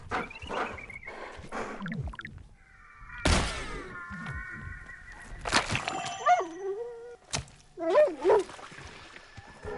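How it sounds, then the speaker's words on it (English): Playable dog character in a planet-exploring video game, giving a series of short yips, whines and barks with brief thumps between them, close and clean. "I chose being a dog, so I sound like a dog"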